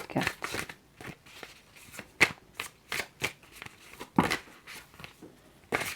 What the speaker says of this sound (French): il y a trop de cartes qui veulent venir